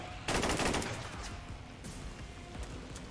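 Incoming gunfire in the turn-based game XCOM 2: a loud burst of rapid automatic shots, followed by quieter scattered shot noise and a few lighter impacts.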